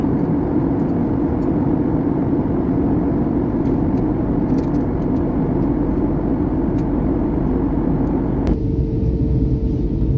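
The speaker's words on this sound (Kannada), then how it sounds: "ಫ್ಲೈಟ್ ಲ್ಯಾಂಡ್ ಆಕೈತಿ ಸೀಟ್ ಬೆಲ್ಟ್ ಹಾಕೊಂಡ್ ಮತ್ತ ರೆಡಿ ಆಗೋದು" Steady, loud low rumble of engine and air noise inside an airplane cabin during landing, constant throughout with no voices; partway through the upper hiss drops off.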